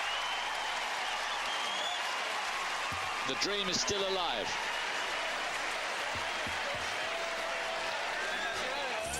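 Loud, sustained crowd applause and cheering fill a tennis stadium at the 2003 US Open semifinal between Nalbandian and Roddick, as a fourth set begins, with a commentator's voice heard over the roar.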